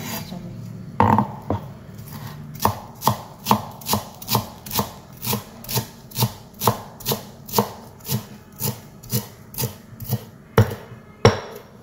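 Fresh herbs are being finely chopped with a knife on a board, a close, steady run of sharp, evenly spaced chops repeating alone without talk.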